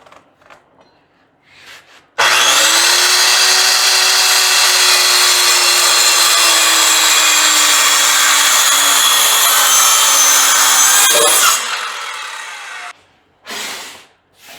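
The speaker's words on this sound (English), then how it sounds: "I'm going to start by cutting her off right down yonder." Power saw cutting through a wooden trailer deck board, a loud sustained whining rip lasting about ten seconds that winds down at the end, with brief quieter rustling before and after.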